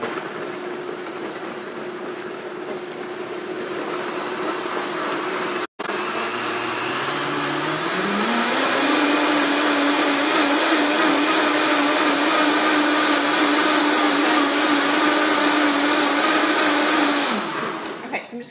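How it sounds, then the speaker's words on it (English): A Vitamix blender blends chia seed protein pudding with a loud, close roar. A click comes early on, then the motor ramps up in pitch and holds a high steady whine until it cuts off near the end. "I'll take you with me to do the Vitamix"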